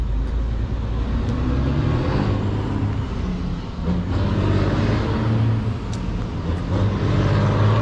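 A truck passes close by on a road, a loud, steady engine and tire roar that swells and eases across several seconds, with no talk.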